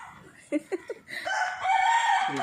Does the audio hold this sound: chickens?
yes